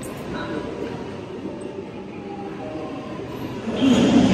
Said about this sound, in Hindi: चलो मेट्रो आ गई